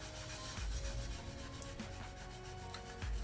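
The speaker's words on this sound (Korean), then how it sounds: "이렇게 습식으로 해서 살살 이렇게 샌딩을 해주시면" Soft, close rubbing strokes of wet sanding with a sponge pad on painted RC airplane wheel pants, repeated in a slow back-and-forth rhythm, quiet and without voices.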